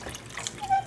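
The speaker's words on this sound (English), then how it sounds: "So I just pour water in." Water poured into a sink for papermaking gives a brief, soft trickle and splash, close and fairly quiet, lasting under a second.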